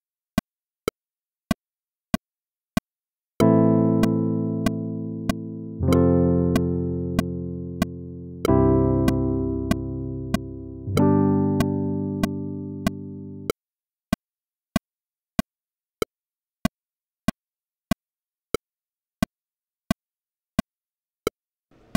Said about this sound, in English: what you're hearing right now is the click at 88 beats per minute